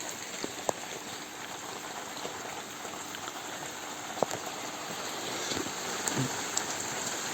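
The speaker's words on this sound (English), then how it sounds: "You can see out there we've got lots of that rain." Steady rain falls outdoors as a dense, even hiss, broken by a few sharper drip and splash ticks, with no talking.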